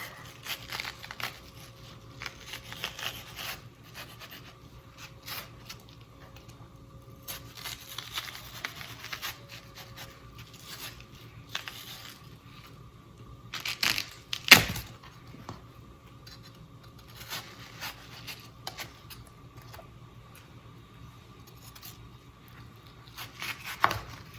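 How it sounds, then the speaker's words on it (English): A knife cuts the rind off a watermelon with scattered soft crunching and slicing sounds, irregular and fairly faint, plus an occasional sharper clink against a low background hum. "now I'm going to cut the rind off."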